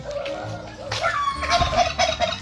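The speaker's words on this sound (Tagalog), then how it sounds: "Tapos, ayan, may pabo dyan." A turkey gobbles near a beach in Carles, Iloilo, Philippines: loud, rapid, warbling gobble calls repeat close by over light outdoor background noise.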